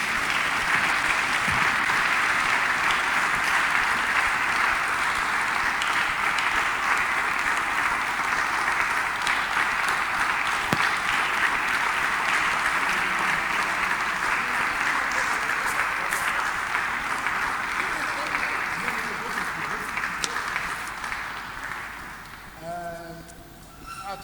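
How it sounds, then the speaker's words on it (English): Sustained applause from a large audience at a business and career fair evening, a long dense wall of clapping that holds steady before tapering off, with a voice beginning to speak at the end. "So maybe if we got a round of applause."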